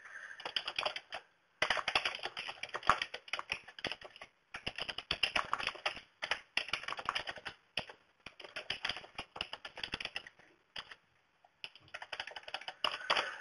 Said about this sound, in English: So we can type a note and say